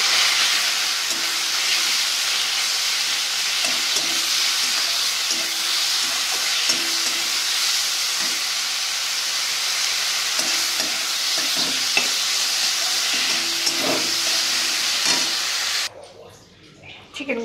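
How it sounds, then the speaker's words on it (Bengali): Chicken pieces frying in hot oil for chow mein, a strong, steady sizzle close by with scattered stirring clicks, and a voice murmuring faintly underneath before the frying sound drops away at the end. "চিকেনটা ভেজে নেব।"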